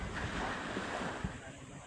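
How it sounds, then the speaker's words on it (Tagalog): Calm sea at a beach cove in San Antonio, Zambales: a steady wash of gentle surf with soft breaking swells, heavy wind rumble on the microphone, no speech. "Napakakalma ng dagat."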